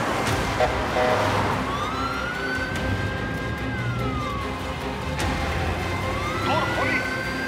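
A police car siren wails and sweeps up and down in pitch over a noisy street background, with voices briefly audible under it.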